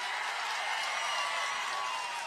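A political rally crowd at a TDP Praja Galam meeting in Anantapur claps steadily, a dense, even wash of applause from many hands with no breaks.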